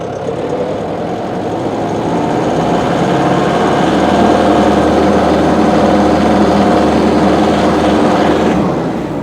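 A Mahindra 5100 series 4x4 tractor drives forward in second gear with a steady, loud engine drone that holds an even pitch throughout, alone without talk.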